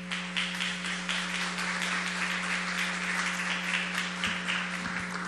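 Audience applause thanking a vice-minister's speech at a formal Dominican government pact-signing ceremony, dense even clapping from many hands, loud and steady over a constant low electrical hum.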